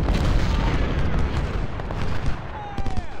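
Cannon fire on a battlefield in the video game Ultimate General: Civil War, heard as a dense, continuous roll of low booms and rumbling detonations that overlap with no clear pause.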